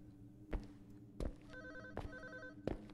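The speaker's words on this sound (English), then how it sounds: "Where's that phone coming from?" A telephone rings faintly somewhere inside a house in the horror video game Unspoken. It is a pulsing electronic trill, with a few soft thuds in between.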